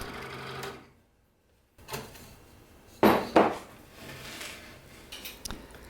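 Saw cutting a round opening into a wooden board in a workshop, heard as close bursts of buzzing cuts separated by a brief silence and a few knocks and clatters.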